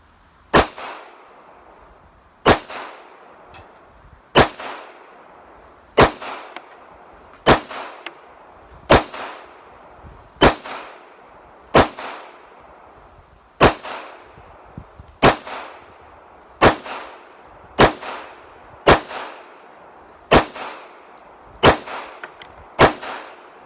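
A Smith & Wesson SD9VE 9mm pistol fires hollow point rounds in about sixteen sharp, loud shots. Each crack is spaced one to two seconds apart and rings briefly, with no talking.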